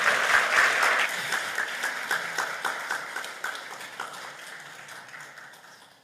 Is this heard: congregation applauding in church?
yes